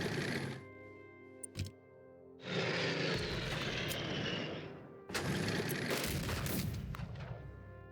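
Bomber aircraft sound effect from the strategy game Unity of Command 2, a loud droning engine roar that swells in two sustained bursts with thuds between them.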